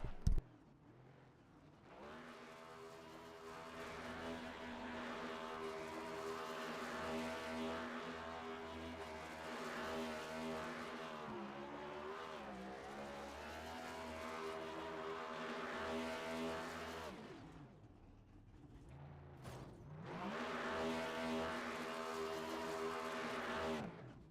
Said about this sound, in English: As Jason will come to the start-finish line, and he will do his burnouts.